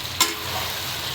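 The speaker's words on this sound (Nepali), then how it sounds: "मैले राँगाको आन्द्रा भुँडी मासु सबै मिक्स मासु भुट्दैछु" Mixed buffalo meat, intestines and tripe fry with bay leaf in a pan, giving a brief, steady sizzle with one small pop near the start.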